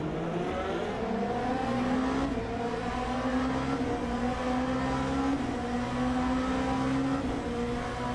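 A race car engine in the Le Mans Ultimate racing game drones loudly and steadily on cold tyres, its pitch rising and falling as the car drifts through a corner, with no talking.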